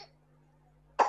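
A single sharp cough bursts out near the end after nearly a second of quiet room hum, with a faint trailing breath at the very start.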